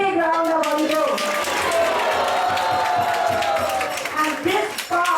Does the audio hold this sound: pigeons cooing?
no